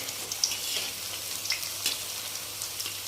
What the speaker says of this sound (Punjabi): ਹੁਣ ਨਾ ਆਪਾਂ ਇਹਦੇ ਵਿੱਚ ਇਹ ਸਾਰੇ ਚਿਪਸ ਪਾਵਾਂਗੇ